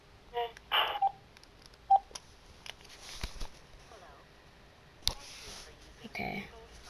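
A phone keypad is dialed, giving several short beep tones in an uneven sequence with clicks and handling noise between them, close and moderately loud, with some faint background sound.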